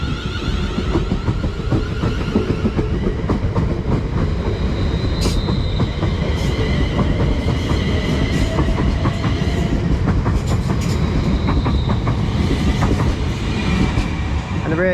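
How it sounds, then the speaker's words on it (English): A London Northwestern Railway Class 350 electric unit departs a station on the West Coast Main Line, a loud continuous rumble with clickety-clack of wheels over rail joints and brief wheel squeals as it passes close by. "departing out now is going to be 350241 on the 1056 service"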